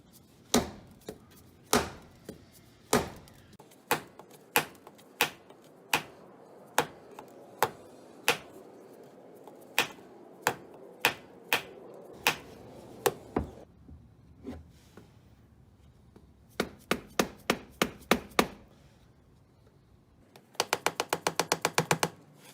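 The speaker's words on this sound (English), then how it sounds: "I'm gonna try using a dead blow hammer and see if I can break the" Dead blow hammer strikes on the differential cover of a '97 Jeep Wrangler's Dana 35 rear axle, knocking to break the gasket loose: about two dozen sharp, close, evenly spaced blows, then a quick cluster of faster taps.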